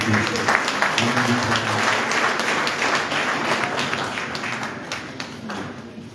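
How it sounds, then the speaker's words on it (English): An audience at a formal commencement of a fiscal-year budget event applauds with loud, sustained clapping that gradually tapers, a few individual claps standing out. "Let's give him a round of applause"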